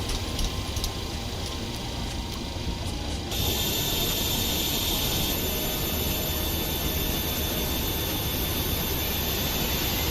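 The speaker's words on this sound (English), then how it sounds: "Starting engine 1." A Boeing 737-800 jet engine spools up in a flight simulator, with a steady low rumble that jumps to a louder, brighter whine a few seconds in and then holds.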